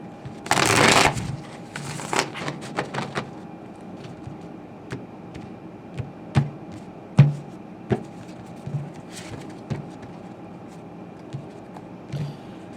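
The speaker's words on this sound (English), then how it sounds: "just give me a minute here to shuffle a little bit" Close riffle shuffles of a tarot deck: a loud burst of riffling at first, then softer intermittent card shuffling and taps, with no talking.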